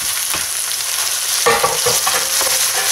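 Ground chicken sautéing in a pan with softened onion and garlic, a steady bright sizzle with stirring scrapes that swell when the meat goes in partway through; no talking.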